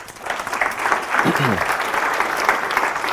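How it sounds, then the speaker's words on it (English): Applause from a group of people at a talk, a steady wash of clapping swelling after a moment and holding, with a voice briefly heard over it. "Just give yourselves a round of applause."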